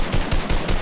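Rapid gunfire in the video game Fortnite, a quick burst of several loud shots in under a second, played alone with no voices.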